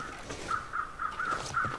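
Crows caw in the video game The Long Dark, a run of five or six evenly spaced, harsh calls that sound fairly distant over a hissing wind-like background.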